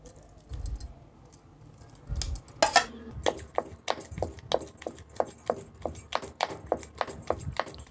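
Red chillies and tomato pounded in a stone mortar for a rustic chutney, close and alone, with a steady run of sharp, rhythmic thuds and grinding knocks after a few scattered strikes at the start.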